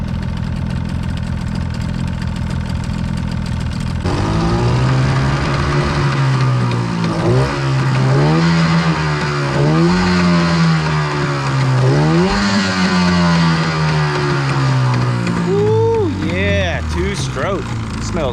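Carolina Skiff boat outboard engine running and idling after a Seafoam treatment, a steady close rumble with slight rises and dips in pitch, and a voice talking briefly near the end.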